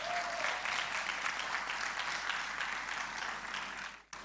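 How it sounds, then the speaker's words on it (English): Audience at a graduation ceremony applauding special awardees, a dense, steady wash of clapping that holds for about four seconds before cutting off abruptly, with a brief tonal voice sound at the start. "Give them a round of applause."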